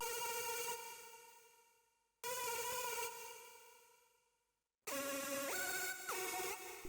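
Dry synth lead patch from Xylength with no distortion or mixing effects, in a trap beat: bright buzzy sustained notes in three held phrases separated by brief gaps, the last with shifting pitches, loud and alone.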